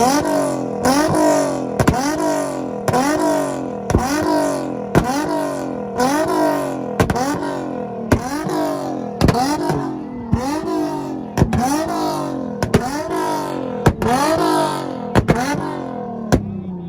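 A car engine bangs against a two-step limiter in a rev battle at an import face-off in Tulsa, Oklahoma: loud, evenly spaced rising revs, each cut off sharply, repeating about every second.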